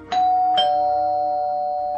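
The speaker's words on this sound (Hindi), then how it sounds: "तभी बंगले की घंटी बजी।" A two-tone doorbell chimes once, its ding-dong notes ringing out and sustaining with a clear tone that slowly fades.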